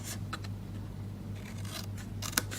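Scissors snip through a plain cardboard box up to a score line for a small paper handbag craft, a few quiet, short crisp cuts close by over a faint background hum.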